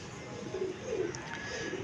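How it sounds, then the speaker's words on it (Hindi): Soft, low pigeon cooing murmurs close by over a steady background hiss, with no talking. "ये दोस्तों नए कबूतर हैं"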